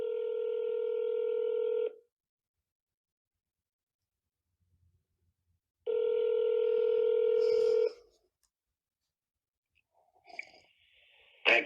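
Telephone keypad tones dialing a state governor's office: two long, steady multi-tone bursts separated by silence, followed by faint clicks and line noise as the call connects.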